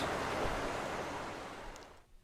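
Rushing water floods a pipe in the video game Heavy Rain, a steady broadband roar like surf that holds for about two seconds, then fades and cuts off.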